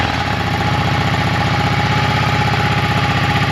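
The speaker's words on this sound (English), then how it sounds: "Here's a sound clip of our bike with just the stock exhaust." A Yamaha V-Star XVS 650 motorcycle idles on its stock exhaust, a loud, close, steady low thrum with an even pulsing rhythm throughout and nothing else heard.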